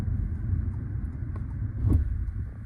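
A Toyota C-HR hybrid car rolls over a speed bump, heard from inside as a steady low road rumble with a brief thump near the middle, no talk.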